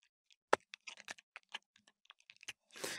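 Keys clack on a computer keyboard in quick, irregular bursts, close and crisp, with a longer rattling run at the end; no voices.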